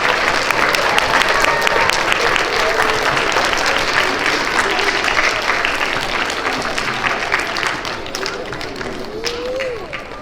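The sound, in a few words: school assembly applause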